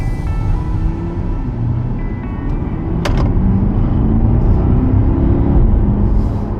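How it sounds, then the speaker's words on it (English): A 2024 Corvette E-Ray hybrid sits with its engine humming in a loud, steady low rumble that swells slightly midway, given enough throttle to override the electric drive. "I'm giving it enough gas to override the electric power"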